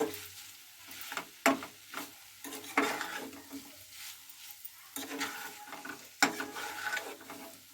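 Minced meat and small fried potato pieces are stirred in a pan with scraping spatula strokes and soft sizzling, quiet and close, with irregular clattering scrapes throughout.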